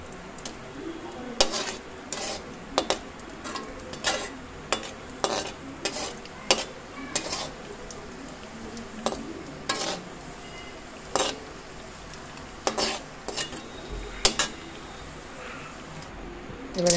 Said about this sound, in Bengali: এবারে কাজু বাদাম দিয়ে দিলাম, এটা একটু ভাজা ভাজা করে নেব